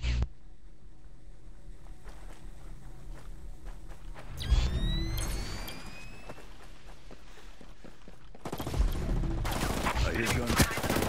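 Sporadic video game gunfire cracks amid footsteps and movement, with faint voices in the background, building into a louder burst of shooting near the end.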